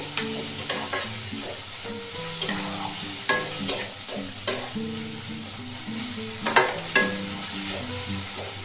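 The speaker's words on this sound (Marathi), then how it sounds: "कांदा आता चांगला लाल रंगाचा होईपर्यंत आपण परतून घेऊ" Onion sautés in a pan for a cauliflower and potato bhaji, with continuous sizzling broken by sharp spatula scrapes and clinks against the pan at irregular intervals.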